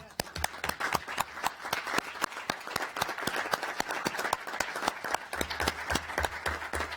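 At a city council session, the room applauds school nurses with steady, moderately loud clapping from many hands, continuing throughout.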